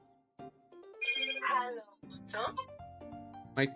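A telephone rings in a trilling, repeating pattern while a person talks over it, moderately loud and close.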